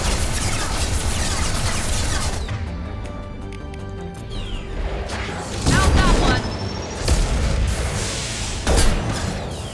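Armor-piercing rounds fire in Mass Effect 2 combat, heard as a series of heavy booming impacts and bursts over dense, continuous battle noise, with someone talking throughout.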